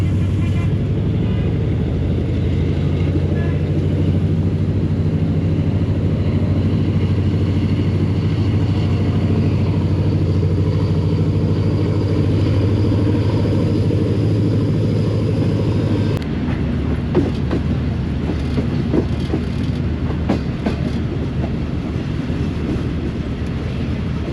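Tezgam passenger train running onto the loop line at Chichawatni railway station, a loud, steady, close rumble with droning tones that runs unbroken and changes character partway through.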